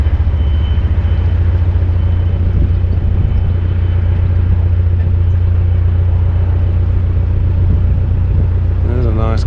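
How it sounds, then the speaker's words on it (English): A car rolls past with a steady, loud low rumble of engine and tyres that holds through the whole stretch, and a voice speaks over it. "There's a nice car."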